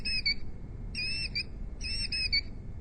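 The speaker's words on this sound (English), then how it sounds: "The killdeer, what a fascinating bird that is." Electronic killdeer call from an Audubon squeeze toy bird: three bursts of shrill, high two-note piping, each lasting about half a second, repeated at roughly one-second intervals over a low room hum.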